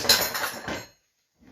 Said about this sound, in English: I've got a lot of dishes.